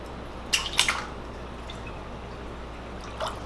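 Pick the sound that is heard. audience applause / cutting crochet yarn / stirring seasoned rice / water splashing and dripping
water splashing and dripping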